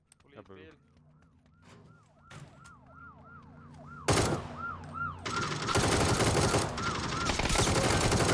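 A police car siren wails in repeated up-down sweeps in the PUBG video game while driving in a convoy, then heavy bursts of gunfire and loud roaring noise take over and drown it out.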